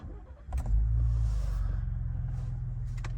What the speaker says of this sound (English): So let's turn the truck on.